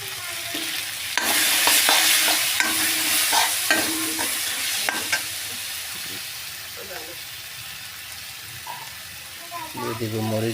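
A fish head coated in turmeric and spices sizzles and fries as it is stirred, loud hissing with repeated scraping strokes that fade toward a quieter sizzle, with brief speech near the end.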